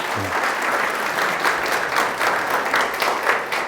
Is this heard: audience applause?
yes